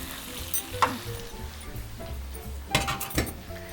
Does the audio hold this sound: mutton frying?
yes